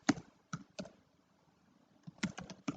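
Typing on a computer keyboard: a few sharp, close key clicks in two short bursts separated by a quiet pause, with no talk.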